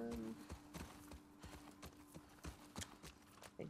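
Horse hooves clip-clopping at a steady walking pace in The Last of Us Part 2, distinct regular thuds fairly close, with a faint ambient tone behind and no talk over them.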